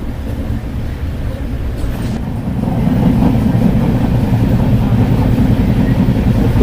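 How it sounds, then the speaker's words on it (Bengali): The Kanchan Kanya Express passenger train rolls along the rails on a bend toward the Dooars, a loud, close, steady rumble with faint rhythmic clatter that swells halfway through. "আমাদের ট্রেন টার্ন নিচ্ছে"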